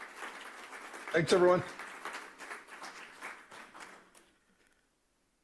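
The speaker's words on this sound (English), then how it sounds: "Please, a big round of applause for Glenn." Applause for a speaker at a real estate AI conference, a moderate, fairly short burst of clapping that fades out after a few seconds, with someone speaking briefly over it.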